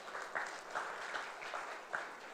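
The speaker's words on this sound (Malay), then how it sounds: "Satu tepukan untuk beliau." An audience claps for Diamond Direct Samsul Effendi at a product event, a faint, even patter of many hands lasting a couple of seconds.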